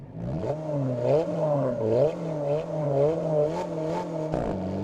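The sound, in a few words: Alpine A110 engine exhaust and gear changes in Test Drive Unlimited Solar Crown video game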